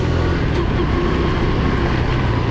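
A 2011 Honda Super Cub 110 motorcycle rides along, its small engine giving a steady, continuous drone with road and wind noise, loud and close throughout.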